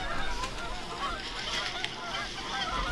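A flock of geese honks continuously at a distance during a Nebraska waterfowl hunt, overlapping calls filling the air with no talking.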